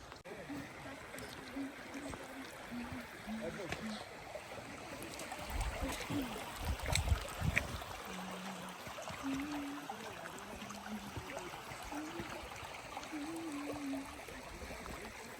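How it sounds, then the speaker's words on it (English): River flowing near Cathedral Rock in Sedona, Arizona, a continuous rushing stream close by with some splashing in the middle, and people talking softly over it. "We have to cross a river to get to the other side."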